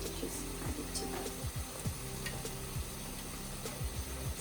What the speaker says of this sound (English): Give this a stir and then just add it to that.